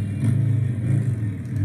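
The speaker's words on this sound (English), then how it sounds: "it sounds like we're free revving a little bit" A car engine free revs during an autocross run, a steady close, loud mid-pitched drone that rises and falls slightly in pitch with no talk over it.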